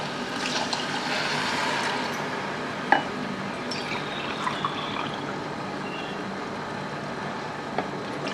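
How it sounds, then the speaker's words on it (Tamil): Water poured into rice in a cooker for mushroom biryani, a soft continuous trickle and splash with a few small clinks, fairly quiet and alone. "இப்போ தண்ணி ஊற்றிக்கலாம்."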